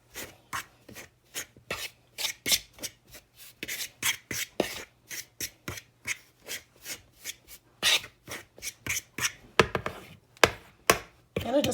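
A fork cuts fat into flour for Southern flat dumplings, making a steady run of close, crisp scraping strokes against a bowl, about two per second, quickening toward the end.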